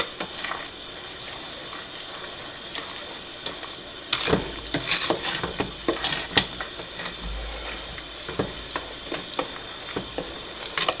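A spoon stirs sugar into carrot cake or apple pie jam in a hot pot on the stove. Irregular scrapes and clinks start partway through over a soft, steady simmering hiss.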